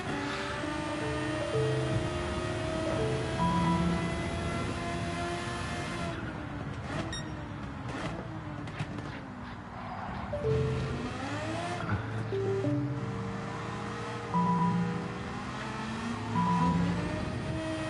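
A Radical race car in an arcade racing game, its engine droning and revving steadily for the whole stretch, pitch sweeping up and down through gear changes, with short electronic game beeps layered over the top and no talking.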